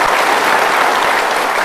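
A studio audience breaks into loud, full applause, a close and dense wash of clapping that holds evenly throughout.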